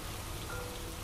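Heavy rain pours steadily, a dense, constant hiss of drops striking surfaces with no breaks.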